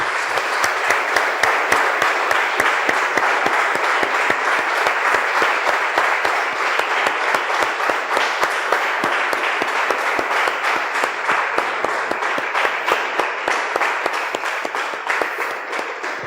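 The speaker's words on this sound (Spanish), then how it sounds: "Damos un aplauso, hermanos." Sustained applause from a church congregation, steady dense clapping filling the space at a loud level throughout, no voices over it.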